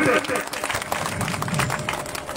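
A big crowd at a packed outdoor public gathering claps steadily, a dense wash of applause mixed with voices and shouting throughout.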